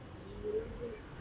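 A racing pigeon gives two soft, low coos, faint and brief against a quiet background, with no talking.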